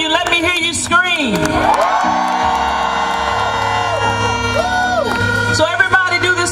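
Audience at a gospel concert at Gosplash 2018 screams, whoops and cheers loudly and continuously, a dense crowd roar with sustained music tones underneath.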